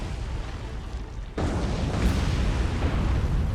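A torpedo strike on a pirate ship in the naval video game War on the Sea: a sudden heavy explosion bursts in after a quieter moment, then a loud, rumbling roar that sustains to the end.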